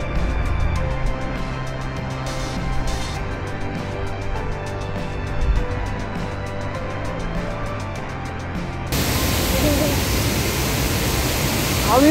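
Chitrakote waterfall roaring, a dense continuous rush of falling water heard at a distance, with a sudden shift to a brighter, harsher roar near the end as if closer to the falls.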